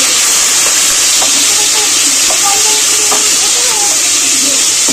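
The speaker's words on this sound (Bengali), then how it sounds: "নুন মাখানো মাথাগুলো গরম তেলের মধ্যে দিয়ে দেব।" Salted hilsa fish heads sizzle in hot oil, a steady bright hiss filling the whole stretch with faint crackles and pops scattered through it, close and fairly loud, with no voice over it.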